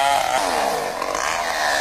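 Chainsaw cutting felled coconut palms on a small island, a steady, loud, continuous engine whine with a slightly wavering pitch and no pauses.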